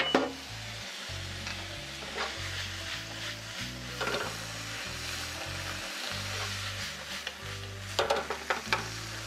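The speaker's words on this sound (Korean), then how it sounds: "여기에 미림 한 큰술, 청주 한 큰술, 간장 한 큰술을 넣고 살짝 볶아주세요" Udon stir-fried with mirin, sake and soy sauce gives a continuous close sizzle, with repeated utensil scrapes and tosses on top, some stronger bursts near the start and near the end.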